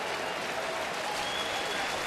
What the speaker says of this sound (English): And the fans with a nice round of applause for the young left-hander.